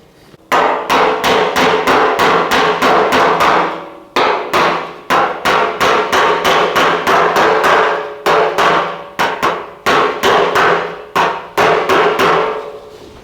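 Hammer and dolly panel beating on a Holden Torana GTR XU-1 LJ body panel during a welding repair, loud rapid metallic blows in fast bursts with brief pauses, close up and without talk.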